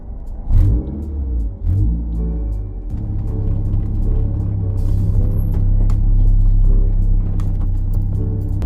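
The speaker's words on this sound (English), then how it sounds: "I guess it's time to take the car on a little test drive" Mazda 3 with a newly replaced transmission and clutch drives on a test run, its engine rumbling loudly and steadily with a rising rev partway through, alone without talk.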